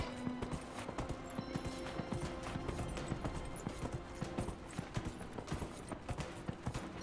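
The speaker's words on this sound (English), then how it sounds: "Let me gallop on this horse" Rapid clip-clop of horse hooves galloping steadily in Dragon Age Inquisition, with an occasional whinny over a dense game soundtrack, sustained and fairly close throughout.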